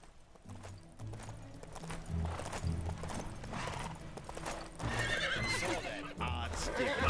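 A horse in the Lego Marvel Super Heroes 2 video game whinnies and snorts over steady clip-clopping hooves, with a game soundtrack and faint voice in the background.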